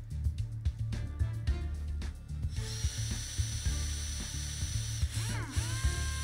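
Drill from a drill puzzle in the video game Dude, Stop, a rapid ratcheting mechanical clatter over a low hum, then shifting to sustained whirring tones with a rising electronic sweep near the end, no talk.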